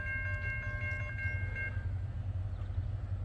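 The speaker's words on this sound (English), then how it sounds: "It's a tanker train" A tanker train rumbles past near Berea, Ohio, with a heavy low roar and a steady sustained horn tone that fades after a couple of seconds, leaving the continuous rolling noise.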